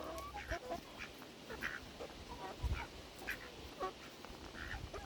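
Several ducks kept with chickens quack repeatedly at close range, short irregular calls scattered over a soft outdoor background.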